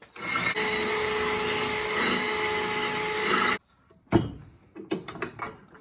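A drill spinning a stiff bristle brush scrubs thick rust off old car parts from a 1981 Dodge Mirada, giving a loud, steady whirring grind for about three and a half seconds, then stopping and leaving a few clanks and handling knocks.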